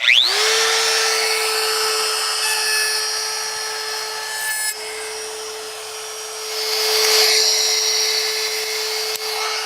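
A drill spins up sharply at the start and then holds a steady high whine as its angled bit bores into a lacquer-finished surface, loud and close with no talk.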